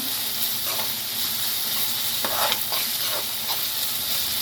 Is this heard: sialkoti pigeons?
no